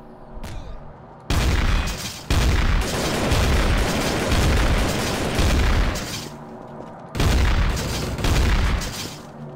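Bursts of booming blasts in Garry's Mod TTT, with a short pop first and then two long, heavy rumbling explosions separated by a brief quiet gap.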